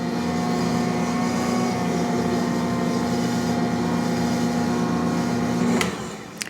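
Ankarsrum stand mixer kneading sticky bread dough: a steady, close electric motor hum with a constant drone that runs evenly for several seconds, then winds down as it stops.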